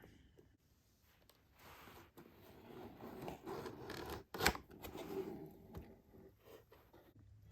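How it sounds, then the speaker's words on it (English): Cardboard packaging of a Mega Construx Halo Infinite Razorback Blitz toy set being cut and torn open, with steady scraping, rubbing and snipping noises and one sharp crack partway through, close by and without talk. "getting the box open"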